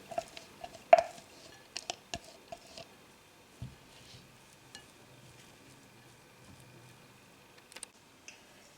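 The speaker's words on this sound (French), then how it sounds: "Je vais venir mélanger les blancs avec le jambon." Chopped egg whites and ham are mixed in a bowl with soft, scattered clinks and light scrapes of a utensil against the dish, quiet and close, with long near-silent gaps between the taps.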